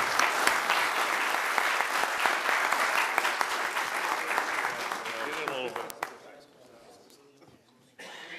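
A commission meeting audience gives a sustained round of dense applause that fades after about six seconds into quieter room noise, with a few scattered claps and brief talk at the end.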